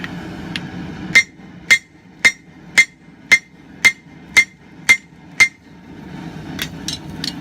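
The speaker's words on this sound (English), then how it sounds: "I'm going to take it to the horn of my anvil, use my rounding hammer." A rounding hammer drawing out the peen of a 2.5 pound cross peen hammer on an anvil horn, striking in a steady rhythm of about ten ringing, evenly spaced blows, close and loud with a bright metallic clink.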